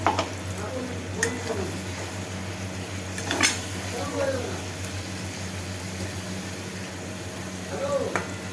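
Ginger, garlic, tomato and green chilli paste frying with meat in a pan, a steady low sizzle with a few soft scrapes and clinks of a utensil against the pot.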